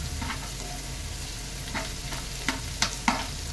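Chopped tomato sizzling in a pan with crushed ginger and green chilli, a steady frying hiss broken by a few sharp spatters and stirring scrapes, close and fairly loud.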